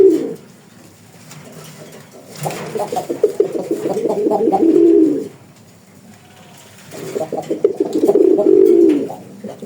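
Raj Golla pigeons coo in two long bursts of soft, throaty warbling, separated by a quieter pause, close by and with no talking, in Kalampur, Dhamrai, Dhaka.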